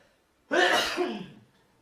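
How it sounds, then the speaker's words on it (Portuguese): A single sharp sneeze, close and sudden, after a brief quiet moment, trailing off quickly. "Nossa, vontade de espirrar."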